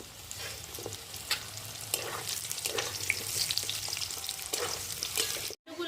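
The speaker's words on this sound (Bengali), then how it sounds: "এবার আলুগুলোকে প্রথমে দিয়ে দেবো দিয়ে হালকা একটু লাল লাল করে প্রথমে ভেজে নেবো" Potato pieces fry in hot oil for a curry, giving a steady close sizzle with occasional stirring scrapes and clinks, no talk, before a brief cut to near silence at the end.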